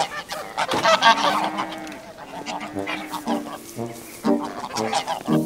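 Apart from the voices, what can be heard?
geese honking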